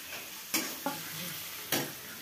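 Onions sizzle steadily in a pan for pasta, a constant hiss broken by three sharp scraping stirs of a utensil, close and fairly quiet.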